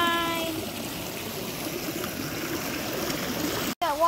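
Creek water rushing steadily with a waterfall nearby, a close, continuous broadband wash that stays even throughout, with a few faint murmured voices under it and a brief dropout near the end.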